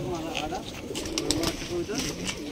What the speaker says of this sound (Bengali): একবারে ছোট কবুতর, ছোট্ট না?